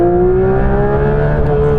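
A Porsche GT3 RS engine screams close and loud at high revs near 9000 rpm, its sustained rising tone filling the short moment with no voices.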